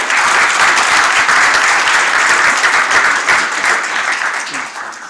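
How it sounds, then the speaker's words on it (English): A crowd claps at the close of a food innovation panel with New Zealand, dense sustained applause that holds steady and then begins to fade toward the end. "Let's all applaud ourselves."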